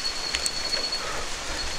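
Steady rain falls at night in a rural Filipino setting, a soft continuous patter with scattered drops and low rumble, alone with no voices.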